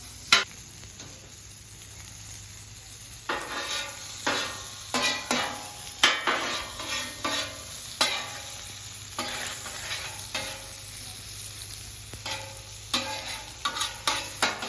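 Ham fat rendering and sizzling on a Camp Chef flat top griddle, a steady hiss under frequent spatula scrapes and taps against the steel plate, close and busy with no talk.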